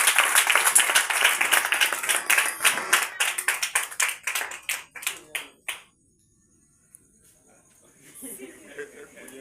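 A church congregation at an evening prayer meeting claps together in loud, fast rhythmic bursts that gradually slow and thin out into a few scattered claps, followed by a brief lull and faint murmuring.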